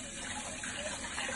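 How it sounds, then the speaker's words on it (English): Cold tap water runs steadily into a sink for rinsing ramen salad ingredients, a continuous close splashing flow with no pauses and no talk. "You clean with the cold water."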